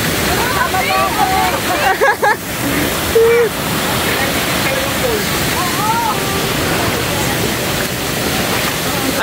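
Abungan Falls in Dingalan, Aurora pours in a loud, constant roar of falling water close by, while people talk over it.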